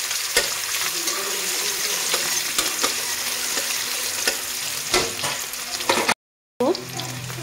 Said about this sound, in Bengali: দিয়ে দিব এখন বুট। আমি এখানে একটু হালকা করে ভেজে নিব।